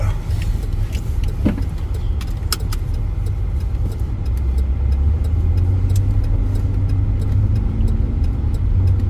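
A car drives along in windy weather, its low engine hum and road rumble steady and close, with scattered light clicks and rattles inside the cabin.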